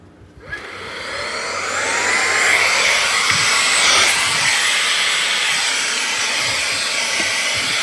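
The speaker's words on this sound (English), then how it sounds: "Use the Fantic little vacuum." A small handheld vacuum runs steadily while cleaning a car sunroof during interior detailing, starting with a click and rising to a continuous close, loud whining hiss with no talking.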